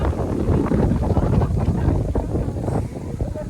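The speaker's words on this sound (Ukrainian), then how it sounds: "Вітряно." Steady wind buffeting the microphone on a mountain walk, a continuous low rumble with gusty fluctuations throughout, no voices.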